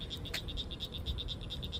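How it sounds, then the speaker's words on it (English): Frogs calling outdoors near a pond, a fast regular series of short chirping croaks repeating about five times a second, faint and steady against low background rumble. "Hear the frogs?"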